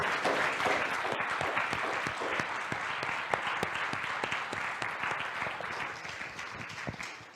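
Audience applause at a church-style talk, a steady dense wash of many hands clapping that holds evenly for several seconds at moderate loudness, with no voices over it.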